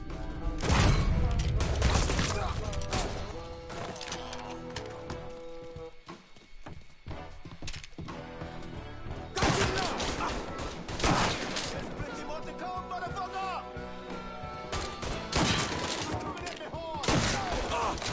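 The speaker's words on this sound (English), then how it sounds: "This shotgun, terrible." Shotgun blasts ring out in the video game Mafia 3, with repeated loud gunshots amid chaotic combat noise, heavy booms and bursts of firing over about eighteen seconds.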